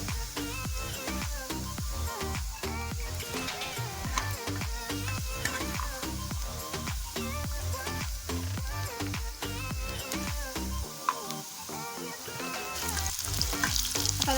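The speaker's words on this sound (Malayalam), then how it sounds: "ചിക്കനെല്ലാം നല്ല ഫ്രൈ ആയിട്ടുണ്ട്." Chicken pieces fry in a pan of hot oil for a biryani, giving a loud, steady sizzle and crackle with occasional stirring scrapes and no voices.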